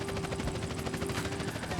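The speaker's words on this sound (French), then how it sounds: "L'hélicoptère nous suit" Police helicopter following the car in a GTA video game: a loud, steady rotor and engine drone with dense rumbling noise, continuous throughout with no voice over it.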